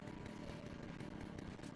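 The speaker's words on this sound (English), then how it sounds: "Can I just steal his chainsaw?" Chainsaw engine from the Resident Evil 4 video game, a steady buzzing roar that runs continuously and loudly through the whole short stretch, dense and unbroken.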